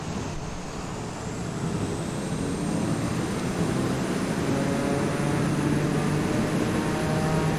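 Propeller aircraft in Microsoft Flight Simulator 2020 powering up for takeoff, flying from Sherbourne-in-Elmet toward Leeds Bradford: a steady broadband engine roar that swells over the first few seconds and then holds loud and constant, with no voices.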